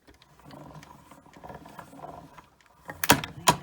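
A hand-cranked die-cutting machine rolls a paper snowman die through, a low rumbling grind building steadily before two sharp, loud clacks near the end.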